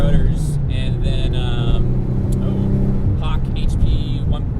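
A modified Nissan 300ZX twin turbo 2+2 pulls hard in 4th gear from inside the cabin, a loud, steady engine drone rising in pitch, with people talking over it.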